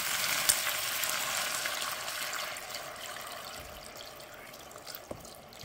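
Guinea fowl pieces fry in a pot for soup, making a soft, even hiss that fades slightly over time, with an occasional faint pop or tap and no voices.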